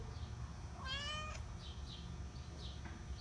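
A house cat gives one clear meow, followed by a few fainter chirps over a low background hum.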